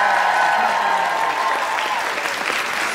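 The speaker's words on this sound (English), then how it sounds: "Let's give a round of applause for the judges." Loud, dense audience applause for the judges at an anime convention cosplay masquerade, a sustained close roar of many hands clapping with crowd noise and no talk over it.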